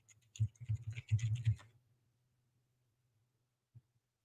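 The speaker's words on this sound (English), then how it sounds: "someone said they don't care about me typing" Fingers tap out a quick burst of clicks on a computer keyboard, close and crisp for about a second and a half, then quiet except for one last isolated keystroke.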